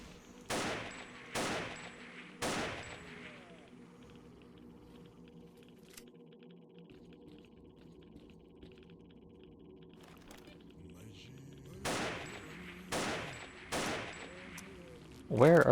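Zombie combat in a video game, with sharp gunshots fired in quick bursts of three or four near the start and again near the end, separated by a quiet stretch of low background hum.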